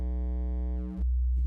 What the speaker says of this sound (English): We're starting off with a sine wave, by the way, and I'm folding the waveform over time, just crunching it in on itself.